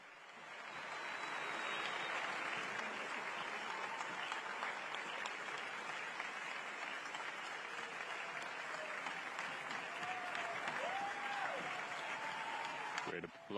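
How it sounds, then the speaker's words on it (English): Sustained, dense applause from a huge open-air crowd of young people at the closing World Youth Day Mass in Lisbon, a steady roar of clapping that carries through the whole stretch with a few faint calls rising above it. "Great applause breaks out"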